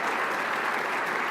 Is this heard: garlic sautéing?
no